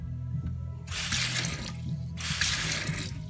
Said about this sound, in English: you see the water coming back through